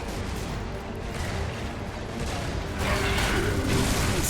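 Sustained gunfire in Gears of War 3 as players shoot the polyps clinging to stalks, a dense, steady mechanical clatter that swells louder in the final second and a half.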